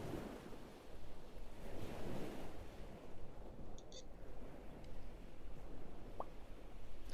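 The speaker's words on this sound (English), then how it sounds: "The waves feel kinda loud to you." Ocean waves surge and wash in a steady, rushing roar, captured close on a binaural microphone, with wind noise and a brief faint tonal blip, no voices.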